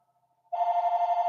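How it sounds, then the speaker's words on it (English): A telephone bell starts ringing abruptly after a faint tone, a loud, steady electronic trill that continues without pause, heard alone with no talk. "Every time the phone's got to ring."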